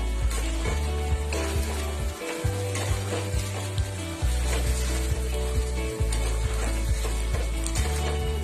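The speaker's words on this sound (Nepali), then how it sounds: "यसलाई राम्रोसँग चलाइदिउँ।" Chicken curry with garam masala, chili powder, turmeric and salt being stirred in hot oil, a steady dense sizzle with scraping stir strokes and background tones running throughout, no talk.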